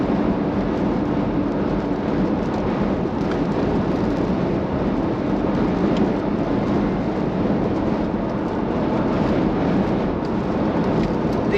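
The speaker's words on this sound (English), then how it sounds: "A lot of wind, a lot of rain coming towards us here." Strong wind and rain from a supercell outflow near Last Chance, Colorado batter a car, a loud, steady roaring rush that fills the whole stretch without letup.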